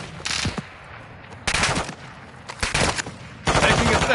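Bursts of automatic gunfire in the video game Call of Duty Warzone 2.0, several loud rattling volleys separated by short pauses, with the last burst sustained to the end.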